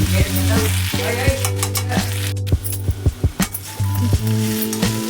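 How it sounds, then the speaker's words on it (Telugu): Small-cut potato fry sizzling in a pan while a metal spatula stirs it, sharp clinks and scrapes against the pan over a steady close sizzle, with a low hum underneath and no speech. "ఇలా మళ్ళీ ఇంకొకసారి మధ్య మధ్యలో కలుపుతూ ఉండండి, లేదంటే అడుగున అంటేసుకుంటూ ఉంటుంది."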